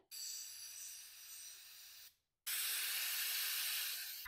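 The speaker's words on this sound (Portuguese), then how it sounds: "No caso, eu vou jogar o spray inteiro." An aerosol can of carburetor cleaner sprays into a container during a home fuel-injector cleaning job: two long, steady, close hissing bursts, each about two seconds, split by a brief pause.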